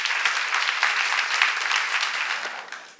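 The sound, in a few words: congregation applause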